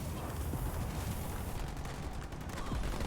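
Sniper gunfire in a real-time strategy match crackles in rapid, overlapping bursts against a dense, rumbling battle din, a continuous barrage at moderate level with no voices.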